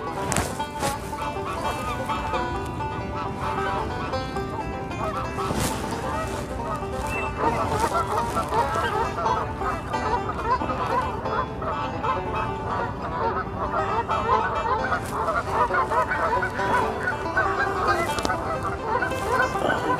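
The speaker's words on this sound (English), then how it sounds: "Lot of bird over there." Waterfowl on the lake at Lorenzi Park in Las Vegas honk and squawk constantly, like a busy flock of geese nearby. People talk over the birds now and then.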